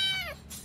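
A cat gives one short, close meow that slides downward in pitch, followed by a soft breathy trailing sound, with no talking.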